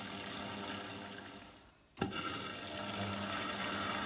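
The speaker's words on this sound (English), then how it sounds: "So now you can plug your machine back in and run a rinse cycle." Water rushing into a Hotpoint/Indesit washing machine on a rinse cycle, starting with a sudden thump after a quiet dip, then a steady, soft hiss of filling water.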